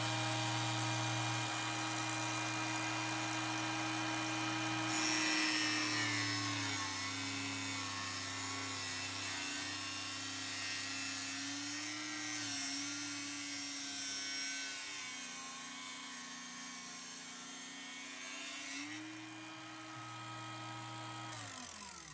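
A Lidl Parkside angle grinder mounted on a stand cuts through a workpiece, a steady high-pitched motor whine with sustained tones whose pitch dips slightly under load, close and continuous, with no talking.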